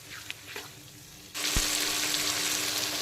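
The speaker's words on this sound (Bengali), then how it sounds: "মশলার থেকে সমস্ত কাঁচা গন্ধ চলে যাওয়া পর্যন্ত কষিয়ে ভাজা ভাজা করে নেব।" Cumin spice paste frying in oil in a pan, a quiet pause with a couple of clicks, then a sudden loud, steady sizzle as the paste hits the hot pan, close up.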